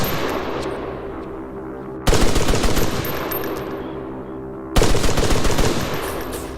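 Machine gun fire in the video game Arma 3 at night, two long sustained bursts of rapid automatic shots close up, each starting abruptly and followed by a lingering echoing tail, with no voices.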